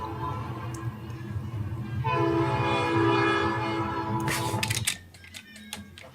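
A Southwest service locomotive passing a railroad crossing: the deep rumble of the train, then a loud sustained horn blast for a few seconds, ending as the noise drops and clattering rail sounds continue nearby.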